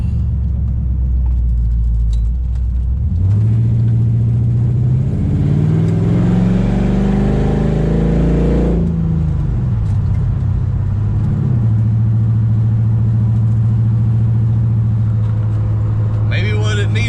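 A 1968 Dodge Charger engine roars loud and close while driven hard, revving up through a long rising pull, dropping as it shifts, then settling into a steady drone, with talk over it.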